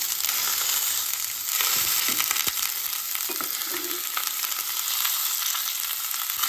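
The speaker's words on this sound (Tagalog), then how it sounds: "Ilagyan ko lang siya ito, guys, ng bawang. Tapos, lalagyan natin yung giniling." Ground meat with garlic sizzling steadily in a hot pan, a loud, continuous bright frying hiss with a few faint clinks of stirring, no talk.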